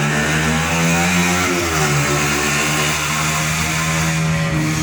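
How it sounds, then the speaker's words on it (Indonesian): A loud motorcycle engine droning close by, its pitch wavering as it passes, filling the clip with a continuous rumble. "akan terganggu dengan suara motor"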